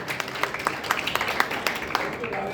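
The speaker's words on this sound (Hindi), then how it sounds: "ताली बजाइए, जोरदार ताली" An audience at a Hindu religious discourse on the Gita claps in scattered, uneven bursts, moderately close and fairly light, with some murmuring underneath.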